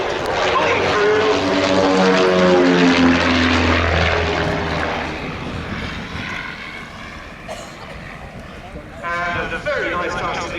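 Propeller aircraft flying a synchronised formation display at Duxford Air Festival, a loud droning engine note with a falling pitch as they pass, fading then swelling again near the end.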